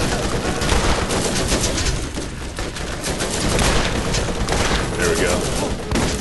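Heavy revolver fire with a shotgun-like blast in the Borderlands video game, dense repeated shots and booms filling the whole stretch, loud and close, with someone speaking briefly over it.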